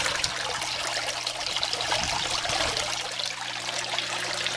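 Water drains from backyard aquaponics grow beds through rocks and tubes into a bucket, making a steady, loud trickling and splashing flow that runs without pause, close by and with no voices.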